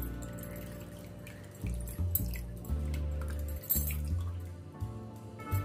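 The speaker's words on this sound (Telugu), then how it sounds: "వాటర్ అంతా పోయే విధంగా గట్టిగా పిండుకోవాలి" Washed chhena (fresh paneer) squeezed firmly by hand in a cloth, making soft wet squishes and drips of draining water in uneven bursts, close and fairly quiet.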